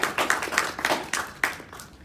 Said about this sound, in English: Could we have a round of applause for her?